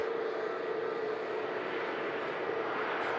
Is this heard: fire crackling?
no